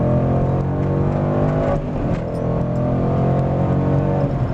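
A 2014 Ford Mustang GT California Special engine revs hard and accelerates through a corner in second gear, a loud, continuous close-up roar with steady harmonic drone and no talk.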